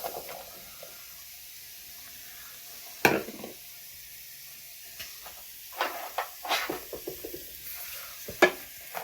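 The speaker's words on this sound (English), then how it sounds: "Just kind of sauteing them as they cook for 10 minutes." Onions and mushrooms sauté in olive oil over medium heat, a soft steady sizzle broken by scattered scraping stirs and clinks of a utensil against the pan.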